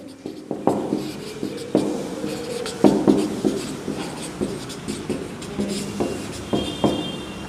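Chalk or marker strokes on a board during a Class 8 chemistry lesson on metals and non-metals, a close series of short rhythmic scrapes and taps, some louder, repeating steadily throughout.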